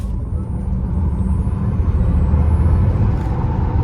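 A 2022 Tesla Model X Plaid accelerating hard from around 20 to 90, heard as a loud, steady low road and motor rumble from inside the cabin with no voices over it.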